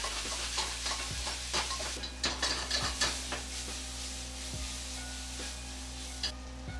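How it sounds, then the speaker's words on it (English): Meat searing in oil in a pan over very high heat for donburi, a quiet steady sizzle with repeated clicks and scrapes of stirring, no talk. "put some oil in a pan on very, very high heat and fry your protein for about a minute."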